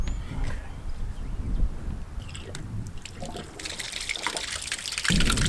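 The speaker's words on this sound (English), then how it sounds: "it is the rain-collected water from our pavilion" Rain-collected water from a pavilion at a ranch pours and trickles over several seconds. The splashing is uneven, with knocks and handling noise mixed in.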